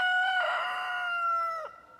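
Broody hen and rooster in a coop, with one clear, close drawn-out fowl call holding steady for over a second before breaking off, and no talk.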